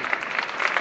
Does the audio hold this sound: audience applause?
yes